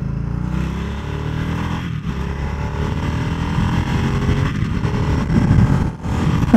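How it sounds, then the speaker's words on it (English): A Harley-Davidson Nightster 975 with a Revolution Max engine accelerates hard onto a highway, its loud, close engine note climbing steadily under wind rush with brief dips at gear shifts. "I'm gonna see if I can just like rip away from here onto the highway"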